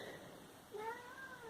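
A pet cat gives a single short, quiet meow in a calm indoor room, with no voices.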